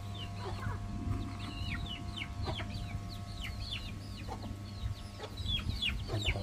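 Many roosters and chickens on a rural Thai rice farm, with repeated clucks and calls scattered across the clip over a steady low hum, moderately distant and fairly quiet.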